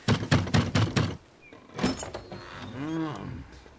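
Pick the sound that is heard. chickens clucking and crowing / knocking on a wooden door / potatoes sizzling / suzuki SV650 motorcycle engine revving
knocking on a wooden door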